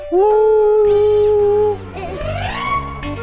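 A dog howls loudly and close in a long sustained wail inside a house, then breaks into rising whimpering yips with some background noise.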